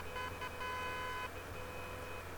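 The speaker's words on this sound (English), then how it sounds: "give him a bit of beeping" A truck horn in the Truck & Logistics Simulator video game gives two quick, quiet beeps close together, followed by a low background drone.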